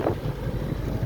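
Strong wind on the Panguil Bay bridge, a steady low roar and microphone buffeting that stays loud and constant throughout the short stretch, with no voices.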